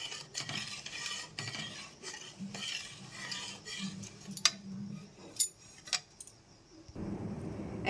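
Milk boiling in a pan while a metal spatula stirs it, giving soft repeated scraping and clinking strokes, a few sharp taps, then a lower bubbling rumble near the end.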